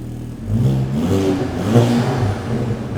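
A Mk6 Golf GTI with a 3.5-inch downpipe exhaust, engine cold, revs up in a smooth rising blip and hangs at a raised idle, close and fairly loud with no talking.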